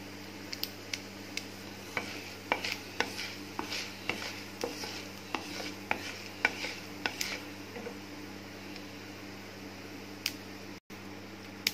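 Cumin seeds drop into hot oil already crackling with mustard seeds and urad dal for a mango rice tempering. Quiet, scattered pops and ticks crackle irregularly over a low, steady hum.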